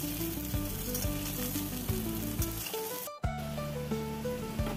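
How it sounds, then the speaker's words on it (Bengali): Ridge gourd and potato sauté in a hot pan with a loud, continuous close sizzle. Scraping stirs recur, and a brief dip near the end is followed by renewed frying, with no voices. "ঝিঙেগুলো দিয়ে খুব ভালো করে কষিয়ে নিতে হবে।"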